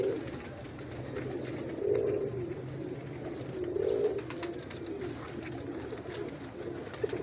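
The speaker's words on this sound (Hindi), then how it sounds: "और कबूतर जो है वो नर जो है मस्ती में आया हुआ है।" A male pigeon in breeding mood coos in two soft, rolling bursts a couple of seconds apart, close by, over a steady low background rumble.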